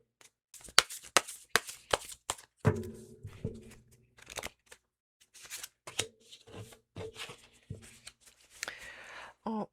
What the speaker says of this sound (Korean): 제가 지금 이 별 카드가 어떤 걸 의미하는지 궁금해서 보조 카드를 하나 더 뽑아보도록 할게요